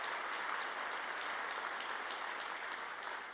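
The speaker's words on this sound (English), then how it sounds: "I would like to ask for a round of applause for the program committee." A conference audience at the 2017 ACS Quality and Safety meeting applauds, with steady, fairly faint clapping from a large room of hands and no talking.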